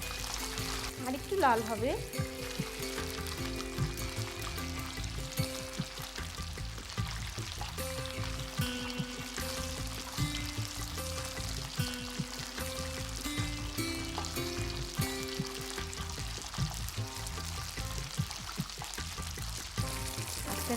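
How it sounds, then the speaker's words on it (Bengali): Chicken wings frying in a pan of hot oil for honeyed wings, popping and crackling from moisture in the meat, a steady sizzle throughout with scattered sharp pops and a brief spoken remark over it. "এই যে পটপট পটপট একটা আওয়াজ হচ্ছে না, এটা কিন্তু পানি থাকার জন্য।"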